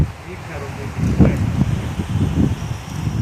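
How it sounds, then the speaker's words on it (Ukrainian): Steady wind blows outdoors at a country cottage near a windmill, with low, gusty rumbling against the microphone and a faint rustle, continuing throughout. "Вітер подуває."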